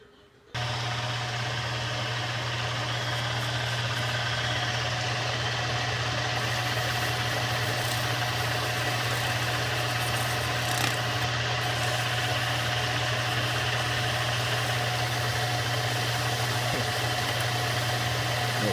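South Bend 34-C metal lathe running steadily while a hand wheel turns, a continuous even motor hum and whir held at constant level throughout, close by, with no voices.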